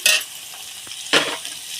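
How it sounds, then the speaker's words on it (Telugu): Ivy gourd pieces sizzle in a hot pan, with two louder bursts of stirring and scraping against the pan over a soft, continuous frying hiss, close up and with no talking. "దొండకాయలు అయితే మగ్గిపోతున్నాయండి"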